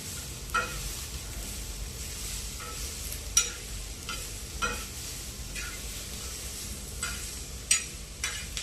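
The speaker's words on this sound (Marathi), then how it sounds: "चांगले परतून घ्यायचे त्याला लालसर येईपर्यंत." Cardamom, cloves, black pepper and chillies being sautéed in a pan for a home-style fish curry, with a soft steady sizzle and repeated scraping stir strokes, close and moderately quiet.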